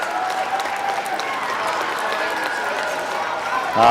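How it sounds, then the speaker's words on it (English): Crowd applause in an arena at a chore team competition final, sustained clapping from many hands at moderate distance, even throughout, with a louder thump and voice starting right at the end. "How's about a great big round of applause to start them out?"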